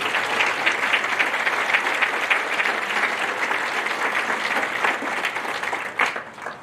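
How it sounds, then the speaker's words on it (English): Loud, steady applause from a large crowd at a high school Class of 2022 graduation ceremony, honouring the senior class advisors; continuous dense clapping rolls on throughout and fades just at the close. "please give them a round of applause"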